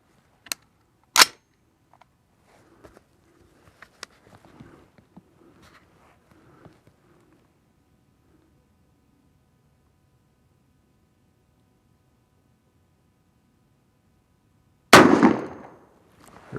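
A rifle chambered in .224 Valkyrie fires near max-load handloads: two sharp, loud shots about a second apart, then scattered faint clicks and handling, and after a long quiet stretch one more loud report with a ringing tail.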